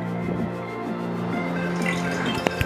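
About four spoonfuls of cooking oil are poured into a pressure cooker for chicken stew, a quiet, close trickling drip ending with a couple of small clinks.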